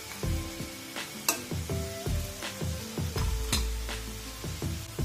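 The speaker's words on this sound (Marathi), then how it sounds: "मंद आचेवर आपण तळून घेणार आहोत" Onion bhaji (kanda bhaji) fry in hot oil over a low flame, giving a steady sizzle punctuated by repeated metal scrapes and clinks as the fritters are stirred and turned in the pan.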